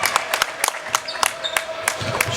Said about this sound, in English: Warrior fans applauding the defense.